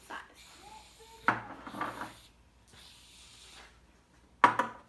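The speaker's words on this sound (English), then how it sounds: "Now we are going to add in about 5 pumps of shaving cream." Short bursts of shaving cream pumped from a dispenser into a glue-based slime mixture, two distinct squirting hisses a few seconds apart with faint sounds between, quiet and close.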